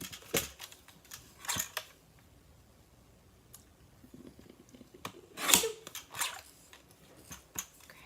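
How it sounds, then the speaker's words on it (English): A paper card being trimmed during stamping and card making gives a few short cutting snaps and slides with quiet gaps between, the loudest cluster near the end. "And then we will trim the bottom off"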